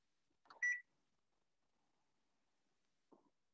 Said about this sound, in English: So I've got a microwave over here and I'm just going to get these heated up.